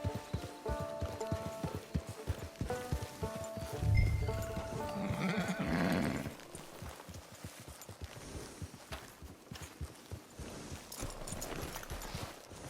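Horse hooves clip-clop in Red Dead Redemption 2 online mode, a rhythmic, fairly close trot that runs through the whole stretch, with brief animal bleats and other game sounds over it.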